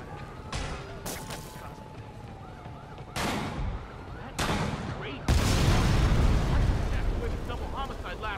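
Escaped convicts fire sniper rifles in a Spider-Man video game: about five sharp, loud blasts at irregular intervals, each louder than the last, the final one trailing into a long rumbling roar.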